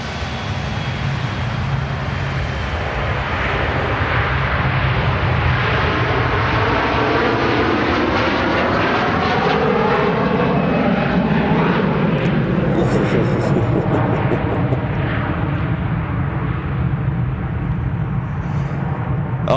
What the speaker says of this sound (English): here's this Virgin Atlantic A330 departing 23 right here on this FriYAY show